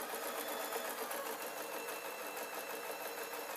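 A sewing machine runs a seam on a small gossamer gift bag, a steady, fairly faint continuous hum throughout with no pauses and no talk.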